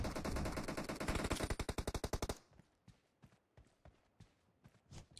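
Rapid automatic AK rifle fire in the PUBG Mobile video game: a loud, fast burst of evenly spaced shots for about two seconds, then a handful of fainter, scattered single shots.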